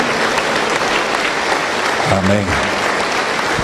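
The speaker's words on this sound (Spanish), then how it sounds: "Aplauso para el Señor Jesús." A church congregation applauds during a worship service, steady dense clapping throughout while a voice briefly speaks over it.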